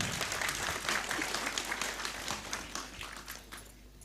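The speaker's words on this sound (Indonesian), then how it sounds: "Tepuk tangan." Audience applause at an Islamic religious talk gathering, a dense patter of clapping hands that gradually tapers off.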